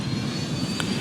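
Steady low engine rumble of an airplane in a flight simulator game after touchdown, a continuous droning hum at even loudness with one brief faint higher burst near the end.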